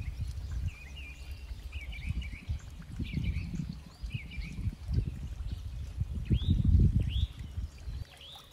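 Water flowing steadily in a garden, a soft low trickle and pour running throughout, with higher bird calls chirping intermittently over it at a moderate distance.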